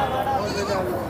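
Nellore brown sheep bleat at a weekly livestock market in Mydukur, a few wavering calls heard close by beneath steady crowd chatter and people talking.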